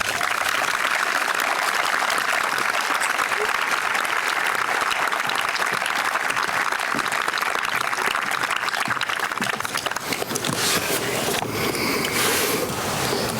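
A crowd at a high school graduation ceremony applauds student speakers with loud, continuous, dense clapping that holds steady, then thins and changes texture near the end as a few cheers and murmurs rise.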